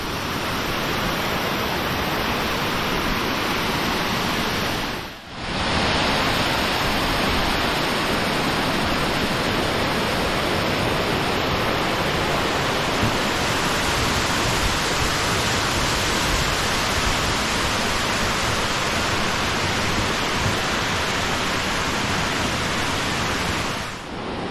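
Steady, dense rush of flowing water at Tolantongo, a loud continuous waterfall-like roar that fills the whole stretch with only a brief dip, and no voices.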